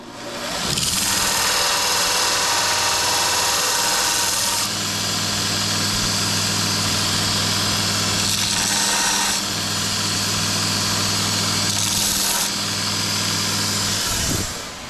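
A bench grinder spins up and grinds excess metal off a lathe part in a repair shop, a loud steady whine and hum that shifts in pitch as the workpiece is pressed on and eased off.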